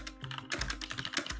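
Rapid clicking of a computer keyboard and mouse, a dense run of crisp, close keystrokes with no talk.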